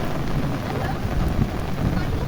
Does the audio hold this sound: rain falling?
yes